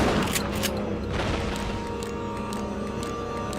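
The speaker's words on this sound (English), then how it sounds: "when you fire the gun and stuff, you hear the shots." Gunshots from the light-gun game Resident Evil: The Darkside Chronicles on the Wii, with sharp bursts of firing over a dense, continuous game soundtrack and a lasting hum.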